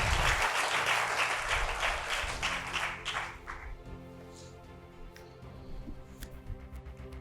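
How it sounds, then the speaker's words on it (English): Participants at a junior-category semi-final school quiz competition in Ogun State clap in a burst that fades after a few seconds, leaving quieter room sound with a few scattered claps. "A round of applause for yourself."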